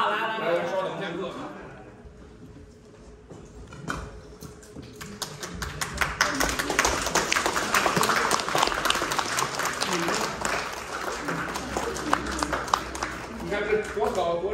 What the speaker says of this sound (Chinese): 咱鼓着掌上台